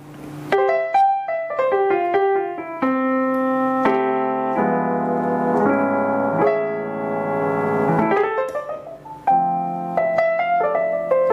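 A Roland FP-30X digital piano plays a melodic phrase in an alternate voice with bright, sustained, organ-like tones, shifting through chords and single notes, close and clear with no voices.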